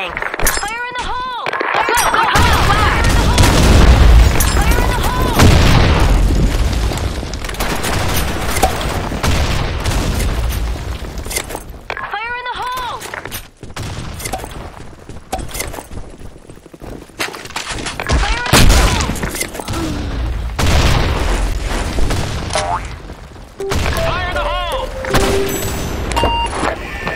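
Grenade blasts and rapid gunfire in the online shooter Blackshot, loud booms and bursts of automatic shots repeating throughout, with players talking over the combat.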